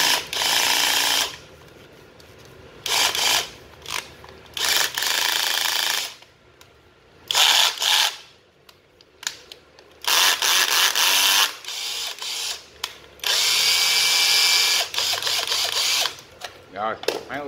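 A used Japanese cordless drill runs in repeated bursts, a loud steady high whine starting and stopping several times with brief pauses between, as someone talks in between the runs.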